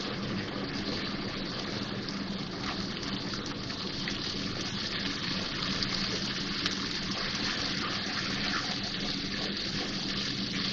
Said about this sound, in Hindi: मिक्स कर देंगे इसको अच्छी तरह से और थोड़ा सा पानी डाल देंगे फिर मैं इसमें।